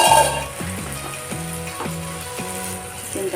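Chicken goes into a pan of frying tomatoes for a home-cooked curry. A continuous sizzle hisses along with stepped, tonal sounds in the background, and no one speaks.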